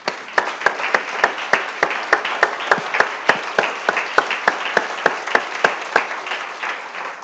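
A church congregation claps together in a steady rhythm, sharp regular claps repeating for several seconds, loud and close, with no talking over it.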